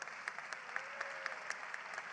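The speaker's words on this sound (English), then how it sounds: "Please give her a round of applause as well." Steady applause from an audience at the C40 World Mayors Summit, a dense wash of clapping hands holding at an even level for a couple of seconds, with no voices.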